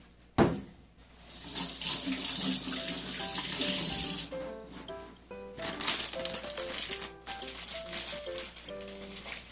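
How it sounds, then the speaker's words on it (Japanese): Fresh salted wakame seaweed being rinsed under tap water, with a burst of running water, then splashing and rattling as the seaweed is handled in a bowl, with gentle clinks and drips. "これ塩ついたのを水で、洗っていきます。"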